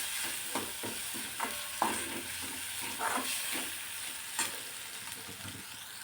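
Tomatoes sautéing in hot oil in a pan for a potato and green bean bhaji, a steady soft sizzle broken by several scraping stirs of a spoon, fairly quiet and close with no talking.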